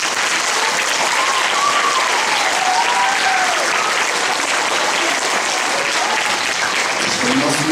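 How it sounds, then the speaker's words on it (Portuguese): An audience applauds the conductor at a concert with an orchestra, a loud, dense and steady wall of clapping that holds for the whole stretch, with faint voices mixed in. "Uma salva de palmas ao maestro."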